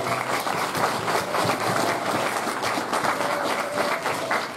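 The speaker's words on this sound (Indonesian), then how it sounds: "Tepuk tangannya dari." An audience at a school orientation seminar applauds with sustained, dense clapping that stays fairly loud and even throughout, with no speech over it.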